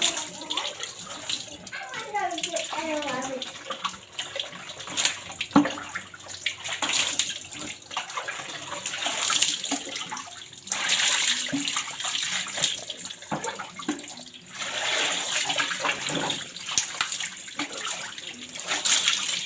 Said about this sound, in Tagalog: nagbubuhos ng tubig